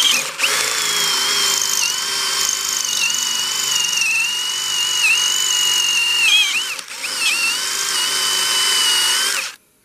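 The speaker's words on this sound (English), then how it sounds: "Put your drill in" A power drill bores out the ball joint on a Mercedes Vito W639 front lower wishbone, a loud, close, steady high whine that holds for nearly ten seconds with slight pitch dips before cutting off, no talking.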